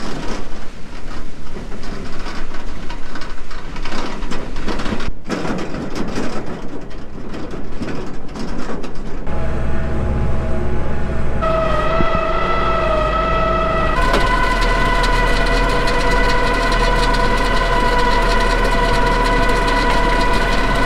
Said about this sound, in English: We're gonna run the windrower a little bit, see how wet it really is.